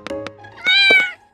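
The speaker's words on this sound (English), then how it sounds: "Tom, you are a bad cat." A cat gives one drawn-out, fairly loud meow with a few soft clicks and taps before and after it, close by and with no talking.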